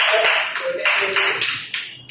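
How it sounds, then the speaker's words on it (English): Students clap for a classmate after a self-introduction, a dense burst of applause that runs steadily and fades slightly toward the end. "everyone, you are requested to clap for Samir"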